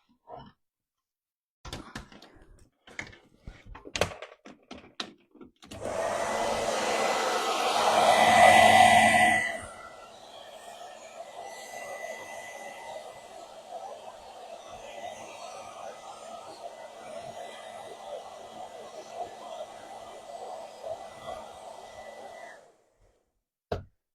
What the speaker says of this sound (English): I can plug in the blow dryer